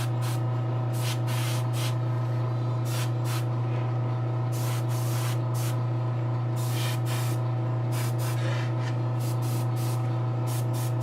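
Spray paint hisses in repeated short bursts onto a Giganta figure, heavy passes into the cup areas with overspray, over a steady low hum.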